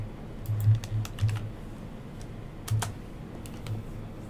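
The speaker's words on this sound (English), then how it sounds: "then I'll type in the number, the new quantity" Someone types briefly on a computer keyboard while entering a number in a spreadsheet, with scattered bursts of key clicks separated by short pauses, close and clear and without any talk.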